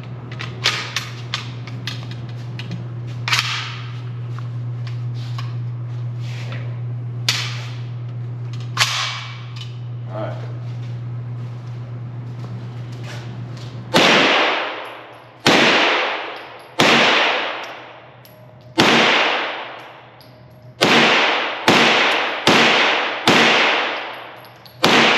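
A Kalashnikov USA Kali 9 9mm AK-style rifle fires about a dozen loud, sharp shots, spaced unevenly at first and then in a quicker string of closely grouped reports, with a steady low hum running under the first half.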